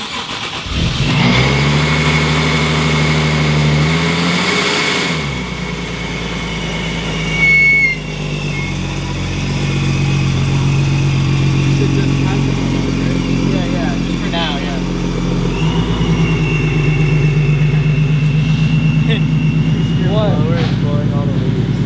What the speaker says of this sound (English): Don't touch the gas, just let it idle.